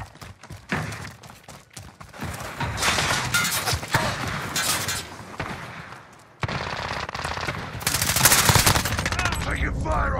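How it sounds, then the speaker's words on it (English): Dense gunfire fills a team deathmatch video game, loud and close: rapid bursts and overlapping shots run almost continuously, with a short lull and then heavier firing toward the end. "Taking fire over here."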